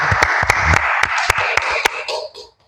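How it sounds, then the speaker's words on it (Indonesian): A small group applauds an acting regent in Pasuruan, with sharp, distinct claps close by, loosely spaced and then quickly fading out. "Beri tepuk tangan untuk beliau"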